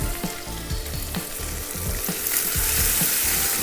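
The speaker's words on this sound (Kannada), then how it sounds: "ಆ ಆಯಿಲು ಕಾದ ತಕ್ಷಣ ಈರುಳ್ಳಿ ಹಾಕಿದೆ" Onions fry in hot oil for an onion-potato sambar, a close, steady sizzle broken by a regular series of soft stirring knocks against the pan, with no voices.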